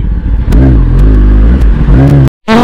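Kawasaki ZX10R motorcycle on launch control revs hard and loud up close, the engine note bouncing and surging repeatedly before cutting out abruptly, then roaring back to life.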